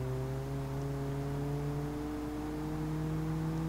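Buzzy engine of a stick-shift car in the BeamNG driving game, a steady droning hum with stacked harmonics rising slightly in pitch as it revs, running continuously without talk.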